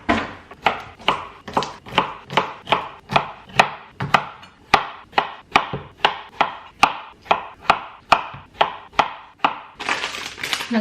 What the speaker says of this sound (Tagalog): Hiwain ko lang to ng adobo size.